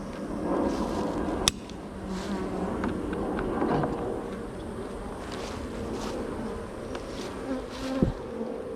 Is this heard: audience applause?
no